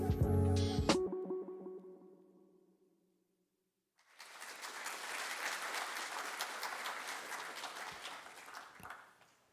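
An audience at a city's State of the City address gives a warm round of applause. A brief tonal musical sting fades first, then after a short silence sustained crowd clapping swells and holds, alone and moderately loud.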